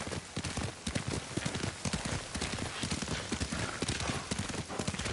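Steady, rhythmic clip-clop of horse hooves trotting close by in the video game Ghost of Tsushima, a continuous run of sharp hoofbeats over a faint background.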